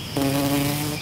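A steady, close buzz of bees droning for about a second, loud and continuous with no voices.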